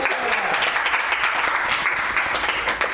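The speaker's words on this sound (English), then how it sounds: "Come on, we got to cheer for her, guys." Audience at a book signing and interview event applauding and cheering as an 8-year-old girl makes her entrance, a dense sustained wash of clapping with scattered whoops, moderately close.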